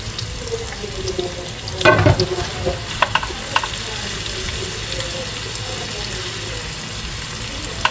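Bangus sisig frying in a pan gives a steady close sizzle with a few clinks and stirring scrapes, and a brief louder clatter partway through.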